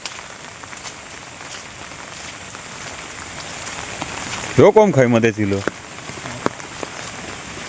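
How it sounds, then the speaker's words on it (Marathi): Steady rain falls over a farm in Konkan, a soft continuous hiss of drops on surfaces throughout, with a voice briefly talking over it midway. "मला पाऊस इलो"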